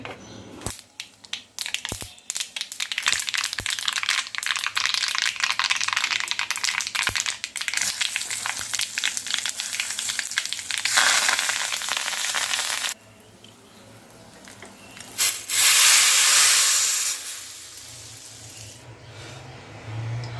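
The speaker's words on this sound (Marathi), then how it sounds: "आपल्याला सुक्या मिरच्यांची फोडणी द्यायची आहे" Loud crackling and spitting bursts of dried red chillies tempering in hot oil for sambar dominate, dropping away abruptly before a final gush of sizzling hiss.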